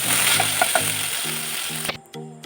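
Cloves, cardamom and ginger-garlic paste fry in hot oil, a steady close hiss of sizzling with a few small pops, dropping suddenly near the end while a low mechanical whirring pulses underneath.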